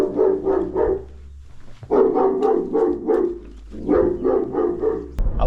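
A dog barks inside a delivery customer's house, loud, rapid volleys of deep barks in three bursts separated by short pauses, heard from just outside the door.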